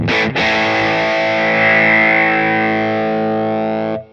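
A single sustained, distorted electric guitar chord rings through a Boss Katana amp with a boosted high-mid EQ, giving a bright, nasal midrange edge, before cutting off abruptly.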